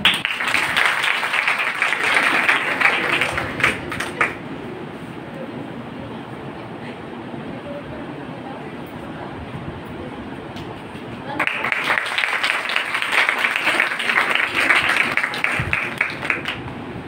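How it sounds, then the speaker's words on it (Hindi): An audience at a college poster competition prize ceremony gives two loud bursts of dense clapping, one at the start and one near the end. Between them is a quieter stretch of murmuring crowd noise in a large hall. "ताली पुरजोर नहीं होनी"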